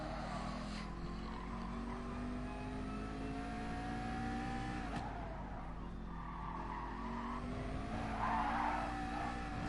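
A McLaren Gr.3 race car at Spa in a racing video game struggles for grip in a corner, its tires squealing and skidding over a steady, droning engine note for several seconds, with a brief sharp burst near the end.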